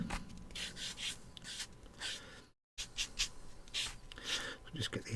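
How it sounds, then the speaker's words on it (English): Sanding knobs off a plastic Warhammer tank model kit by hand, a series of close, soft scratchy strokes in an uneven rhythm with a brief gap of silence midway. "Just get these knobs sanded away."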